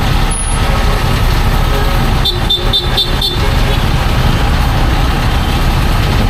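Busy road traffic on EDSA with trucks and buses, a dense, loud rumble of engines with a run of several short horn toots partway through and air brakes hissing.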